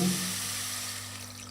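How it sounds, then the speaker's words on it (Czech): Water poured into a pot of pork risotto, giving a soft steady wash of sizzling and bubbling that fades slightly over a second and a half, close and fairly quiet with no talking. "takže to takhle trochu zaleju vodou"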